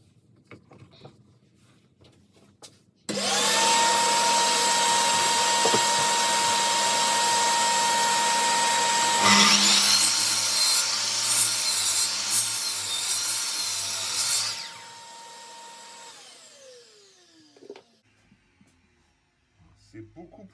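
Power saw cutting lengthwise through a thick wooden board to split it into two planks, a loud steady whine for about twelve seconds that changes pitch midway as the blade bites deeper, then spins down; faint voice before and after.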